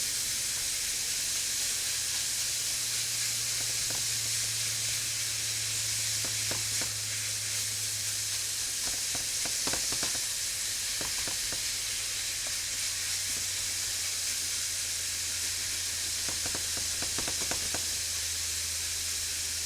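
Ground beef for Hamburger Helper sizzles steadily in a pan on lowered heat, a continuous loud hiss and crackle with faint scattered pops and a low hum underneath.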